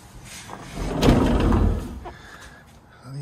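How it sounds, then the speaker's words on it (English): Heavy sliding doors at a holiday home in Sardinia rumble open in one low, sustained slide lasting about a second, ending with a soft knock. "heavy sliding doors"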